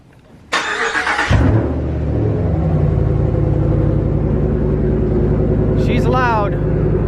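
Hemi 5.7-liter V8 firing on a cold start: a short crank burst, then the engine catches with a loud, deep, steady exhaust rumble that holds through the rest, with a brief higher whine near the end.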